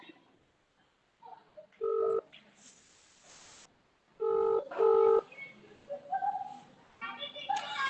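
Telephone keypad tones sound as a call is placed: several short, distinct beeps in separate bursts, fairly faint, with a few other faint sounds between them.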